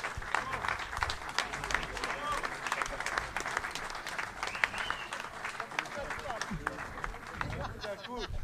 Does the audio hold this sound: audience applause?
yes